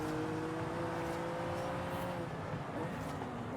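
An Aston Martin Vantage sports car engine in the racing video game Forza Horizon 5 hums and revs steadily, its pitch sliding down and then climbing again under a constant roar of road noise.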